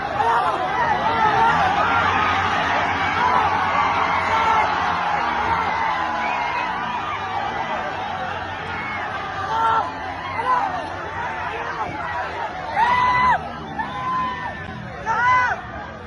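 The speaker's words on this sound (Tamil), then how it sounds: "திருமாவளவன் எவ்வளவு சொல்லியும் தொண்டர்கள் ஆரவாரம் அடங்கவில்லை" Dense crowd uproar of party workers packed around Thirumavalavan's campaign vehicle at an election rally: continuous loud chatter and shouting, with whoops and cheers rising near the end.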